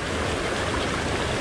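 A small New Jersey stream flows steadily, with a constant broadband rush of water that stays even and close throughout and has no voices over it.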